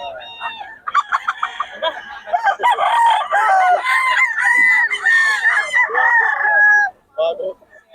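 Gamecock roosters at a rooster market in Bocaue crow loudly and close by, with several overlapping crows and clucks in quick succession before a brief pause and a final short call.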